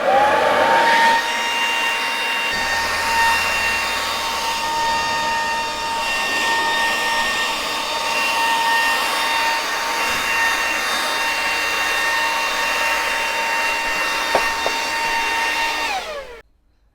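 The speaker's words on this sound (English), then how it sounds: "I'm really impressed with this little Makita electric blower." A Makita cordless electric leaf blower running on a 5 amp hour battery, a steady loud whine with a high tonal hum that holds for about sixteen seconds and then cuts off abruptly.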